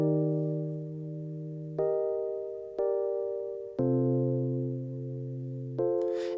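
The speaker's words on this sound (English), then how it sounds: "this is just kind of like a Rhodes preset that I got from Nexus" A Rhodes electric piano preset from Nexus plays sustained, mellow chords that change about once a second, each new chord striking cleanly over the ringing tail of the last, with no voices present.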